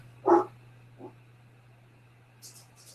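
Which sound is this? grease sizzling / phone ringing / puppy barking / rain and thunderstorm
puppy barking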